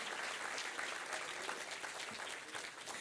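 A church congregation applauds continuously, a dense wash of clapping hands at steady volume throughout, with no voices standing out.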